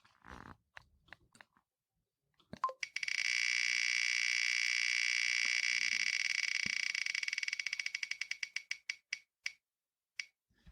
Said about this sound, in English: I'm just going to hold my headphone toward the mic for the sound effect of the actual wheel spinning.